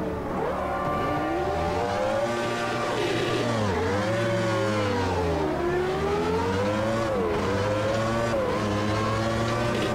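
A Formula Classic Gen 3 race car in the Automobilista 2 racing game at Monza, its engine droning loud and continuous, pitch climbing and dropping through short gear changes, with a brief tire squeal and no voices.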